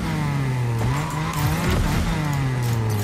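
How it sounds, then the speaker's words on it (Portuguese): Race car engine drone with tire squeal as a car drifts through a turn in Fortnite Rocket Racing, loud and continuous with pitch sliding down and back up, no talking. "faço um drift"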